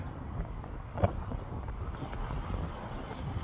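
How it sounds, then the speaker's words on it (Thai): Strong wind buffets the microphone outdoors, a steady rumbling roar with occasional gusts and faint knocks, heard without voices. "ลมแรงมาก"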